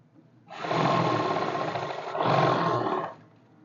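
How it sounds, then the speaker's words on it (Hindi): A sewing machine runs in two close, steady bursts as it stitches pants, its motor whirring loudly with a brief dip in between. "अब फिनिशिंग वाली सिलाई लगेगी फ्रंट पार्ट के ऊपर"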